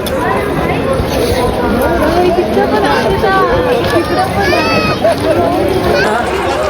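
Dense crowd chatter and hubbub fill a busy outdoor buffalo fair in Maharashtra, steady and loud throughout, with overlapping voices near and far and no single speaker standing out.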